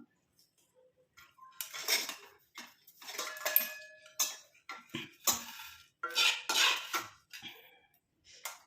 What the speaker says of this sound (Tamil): இது எல்லாத்தையும் நம்ம வடிகட்டி எடுத்துக்கலாம்.